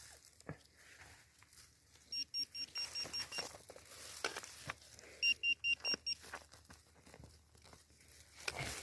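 Two short bursts of rapid, high-pitched electronic beeping, a steady pulsing tone repeated several times, with rustling and faint handling noises between.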